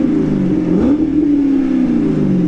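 A Chevrolet Corvette C8 engine with an AWE exhaust holds a steady, loud drone, then revs upward in a quick rising sweep before settling back to a sustained idle-like hum.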